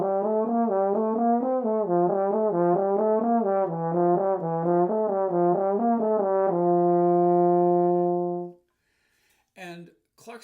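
A wind instrument plays a Clark study in a narrow register, a smooth rising and falling run of notes that settles into one long held tone, then stops, followed by a brief faint noise.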